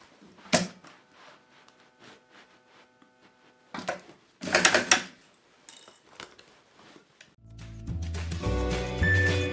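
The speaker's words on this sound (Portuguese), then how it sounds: "E agora, vou costurar também prendendo o meu forro." A sewing machine stitching the fabric lining of a toy storage basket. Scattered clatter and rustling of handling come first, then the machine runs steadily and close for the final two seconds.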